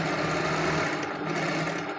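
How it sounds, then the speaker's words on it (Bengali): A sewing machine top-stitches a kameez with piping, running in one steady, loud, continuous whir close to the listener, with no talking over it. "এই দেখুন আমি এই যে চাপ সেলাই করে দিতেছি"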